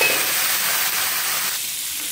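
Chicken pieces for crispy fried chicken frying in a covered pan over a medium flame, giving a steady, dense, close sizzle throughout with no talking.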